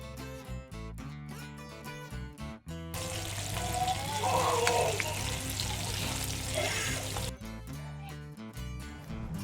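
Prawn tempura deep-frying in hot oil over a medium gas flame, a steady close bubbling hiss sustained through the middle of the clip, with background music before and after.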